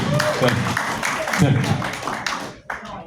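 Audience applause at a comedy show in a VFW hall, a room of hands clapping loudly and unevenly for a few seconds before tapering off, with voices over it.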